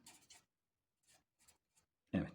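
A colored pen writes on paper in short, quiet scratchy strokes separated by pauses, with one louder scrape at the end.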